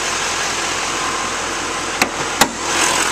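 A 2011 Chevrolet Silverado 2500 LTZ extended-cab long-bed pickup with a 6.6L LML diesel engine runs smoothly at a steady, even drone. Two brief sharp clicks break in near the end.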